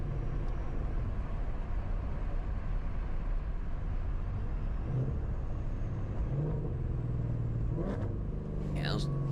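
A 1400 hp Shelby GT500 Mustang with a dual-clutch transmission downshifting into first gear in traffic, heard as a steady road rumble with engine pitch changes and a rising rev blip near the end.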